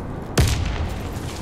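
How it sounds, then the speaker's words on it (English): A grenade explodes in the shooter game Warface with one sudden, heavy boom that decays into a low rumbling tail. "Threw a grenade on accident."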